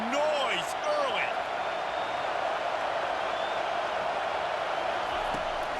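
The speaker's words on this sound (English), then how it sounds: "Stadium is rocking. This crowd bringing the energy and noise early." Stadium crowd in the College Football 25 video game at a Clemson–Oregon matchup, a steady loud roar of cheering fans sustained throughout, with a few brief whistle-like tones early on.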